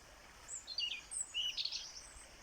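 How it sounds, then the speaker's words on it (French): Faint birdsong drifts in from a distance, a few high chirps and short warbling phrases over a soft outdoor hush, near a flowing stream. "j'entends les oiseaux"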